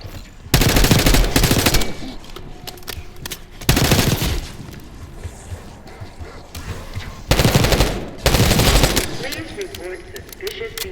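Gunfire in the video game Call of Duty: Black Ops 6, several loud bursts of automatic fire separated by pauses, with quieter ambient game sounds between bursts.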